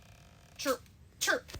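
Two short sneezes from a child, spaced about half a second apart, each a quick sharp burst over a quiet background.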